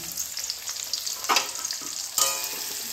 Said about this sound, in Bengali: তেলের মধ্যে দিয়ে দেবো পেঁয়াজটা। সবার আগে পেঁয়াজটা ভেজে নেব।